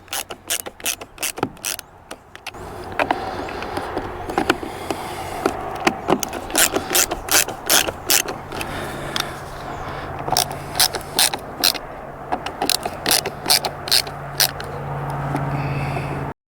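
Screws for a HaloView BT6 backup camera mount are driven with a ratcheting tool, giving a long run of fast, sharp metallic clicks in bursts with short pauses, close and loud.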